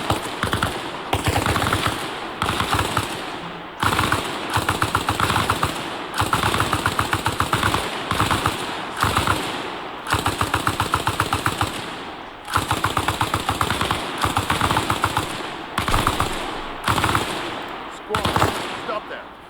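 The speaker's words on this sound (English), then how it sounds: "Have your boy lay down suppressive fire. Squad, suppressive fire." Sustained machine gun suppressive fire in the military video game Arma Reforger, loud rapid bursts repeating in long volleys with short breaks across the whole stretch.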